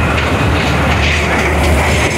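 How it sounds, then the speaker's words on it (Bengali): A dragon train amusement ride at a fair rumbles loudly and steadily with a rail-like clatter, filling the short stretch with dense, close noise and no talk. "এখানে দেখতে পাচ্ছেন ড্রাগন ট্রেন, এক্সট্রিম সাউন্ড হচ্ছে"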